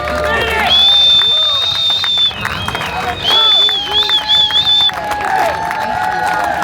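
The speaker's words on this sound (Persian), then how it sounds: "حالا صدای تشویقای ما رو شنید" A crowd cheers and whistles outdoors in Alaska as a competitor reaches the top, loud shrill whistles and excited shouting over a babble of voices, surging in bursts before thinning out near the end.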